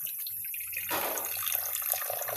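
Water pours into a drinking glass, starting abruptly about a third of the way in as a bright, splashy gush that keeps flowing steadily to the end, close and fairly loud, with no talking.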